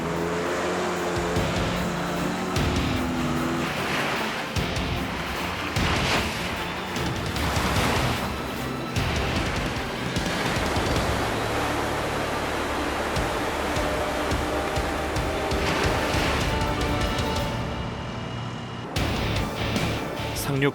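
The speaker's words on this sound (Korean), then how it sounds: "상륙 돌격 장갑차가 거친 파도를 뚫고 목적지에 도착했습니다." An amphibious assault vehicle drives through rough surf during a Korea–US joint Ssangyong landing exercise, producing a loud, continuous engine roar mixed with dense broadband churning noise that never lets up.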